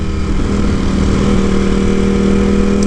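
Ducati Panigale V4S sport bike fitted with an aftermarket Termignoni exhaust, its engine holding a loud, steady drone close by with no talk over it.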